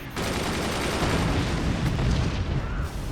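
Gunfire in the artillery strategy game Forts: a dense, roaring blast of shotgun fire that fills the clip with continuous rumbling crackle, loud and close, with no talk.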